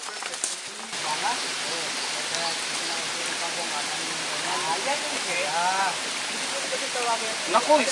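Cagbuanga waterfall flowing in a steady broadband rush, continuous and fairly close, with voices talking over the water throughout.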